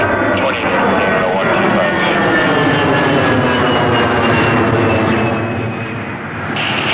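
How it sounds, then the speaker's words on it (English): An airliner taking off from runway 23 at Toronto Pearson, its engines a loud, steady, broadband roar that holds for several seconds and eases slightly near the end. "clear for takeoff, runway 23"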